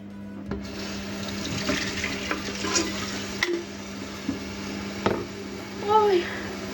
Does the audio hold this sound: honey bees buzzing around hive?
no